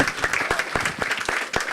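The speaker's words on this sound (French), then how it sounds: "je vous propose d'applaudir évidemment cette démonstration incroyable" Brief burst of audience applause following a demonstration at a training and innovation round table, with distinct individual claps standing out in an uneven rhythm.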